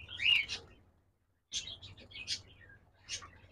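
Diamond doves at a dove farm give short, high chirping calls in a few quiet bursts, separated by a brief silence.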